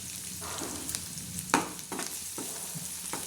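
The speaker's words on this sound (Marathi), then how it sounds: "हे असं छानसा असा तडका द्यायचा" Garlic and cumin tempering (tadka) sizzling in hot oil, a steady crackling fry punctuated by several sharp spoon knocks and scrapes against the pan, close and without talk.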